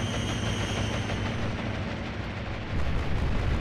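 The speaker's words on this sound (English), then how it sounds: "Bombs away!" Bombs dropping from a Ju-88 bomber in the naval war game Atlantic Fleet, striking a runway as a steady, heavy rumble of explosions with a low roar that swells louder near the end.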